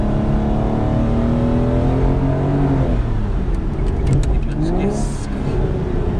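An Aston Martin DBS V12 engine revs loudly and continuously, its pitch rising and falling in sweeping harmonics, with faint voices underneath.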